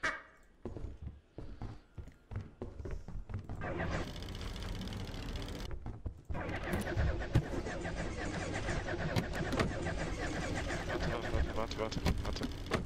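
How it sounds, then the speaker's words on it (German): Car engine sounds in the video game Lethal Company, with an engine starting and idling with uneven revving and rattles, mid-loud, while voices talk over it. "Ich hab das Auto nicht gestartet, es hat einfach random die Geräusche."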